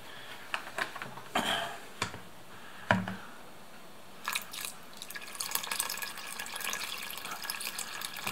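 Water poured into a pot while cooking noodles in a village kitchen, with intermittent splashes, drips and clinks near the start, then a steadier pouring and trickling rush, close and alone.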